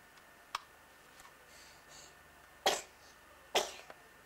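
A sharp, sudden burst of a sneeze, followed by a second similar burst about a second later, with a smaller click earlier in a quiet room.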